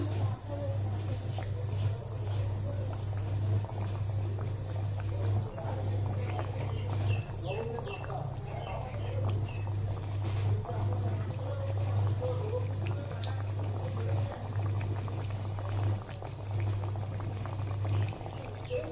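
Chicken cutlets frying in hot oil on a low flame, a continuous close bubbling sizzle with a steady low hum underneath and soft scattered pops throughout.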